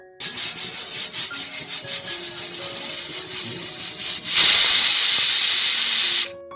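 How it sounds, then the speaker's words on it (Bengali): Goat mutton cooks in a pressure cooker. Soft rhythmic scraping and rubbing give way to a loud, sharp blast of hissing steam that lasts about two seconds and then cuts off abruptly, with no talk. "এখানে আমরা প্রেসার কুকারের মধ্যে কিন্তু মাংসটাকে দিয়ে দিলাম"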